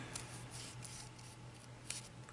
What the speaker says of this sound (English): But we can do that with our scissors